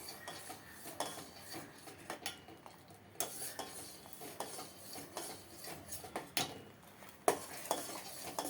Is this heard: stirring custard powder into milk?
yes